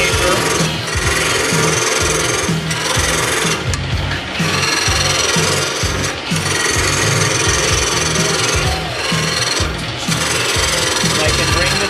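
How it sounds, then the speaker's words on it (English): A large gouge cuts a taper into wood spinning on a lathe, giving a steady, loud, rough scraping hiss with rhythmic dips as the tool is passed along the piece. "To start the taper, I'm going to use the large gouge."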